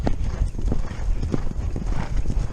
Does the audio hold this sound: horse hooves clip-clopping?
yes